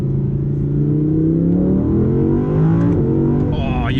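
An Audi R8 V10 Plus in performance mode accelerates, its engine note rising steadily as a loud, smooth, droning roar heard from inside the cabin, with a voice talking over it.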